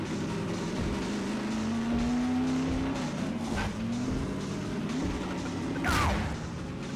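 Car driving in Half-Life 2, a continuous engine drone that rises and falls with speed changes, with a brief tire squeal near the end, all fairly close and steady.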